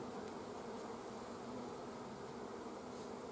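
Honey bees buzz steadily around a hive in winter, a dense, continuous hum that holds at an even, moderately faint level throughout with no voices.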